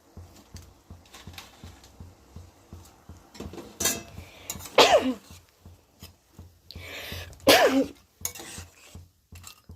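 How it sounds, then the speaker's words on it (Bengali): Fried masoor lentil fritters go into a pan of curry for a loitta fish kofta dish, with scattered soft spoon scrapes and utensil clinks and a couple of louder clattering bursts nearby. "এবার কিন্তু ভেজে রাখা বড়াগুলো আমি আস্তে আস্তে দিয়ে দেবো।"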